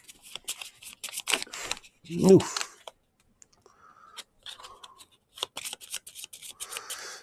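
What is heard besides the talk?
shuffling a deck of playing cards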